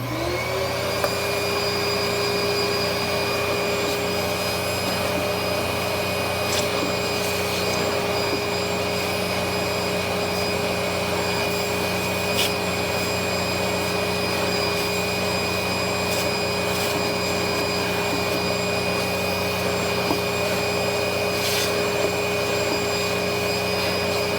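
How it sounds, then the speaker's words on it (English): A Dirt Devil Breeze vacuum cleaner runs steadily as it sucks dust from a very dirty air conditioner filter, a constant close whine with a few brief clicks and knocks against the filter. "So let's vacuum my very dirty air conditioner filter."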